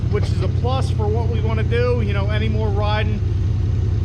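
A motorcycle fitted with an HMF Quiet Series Titan exhaust idles with a steady, low, muted engine rumble throughout while someone talks over it.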